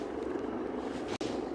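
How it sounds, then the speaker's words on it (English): An Airbus H175 helicopter on the move near Aberdeen airport gives a steady, continuous rotor and engine drone with one very brief dropout near the end. "we've got a helicopter on the move"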